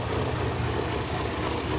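Datsun 1200 ute with a formerly turbocharged engine idles steadily, a low, even rumble close by and constant in level, with no talk.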